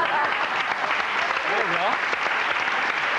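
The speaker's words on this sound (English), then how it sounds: "I'll clap on that one" A talk-show studio audience applauds steadily and densely throughout, a continuous wash of clapping while a voice speaks briefly over it.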